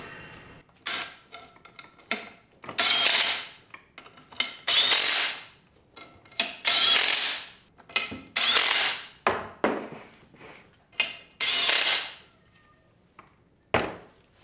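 A power tool runs wheel studs coated with red Loctite into a Ford 8.8 axle, in a series of short bursts of varying length separated by brief pauses, with some metallic clinks.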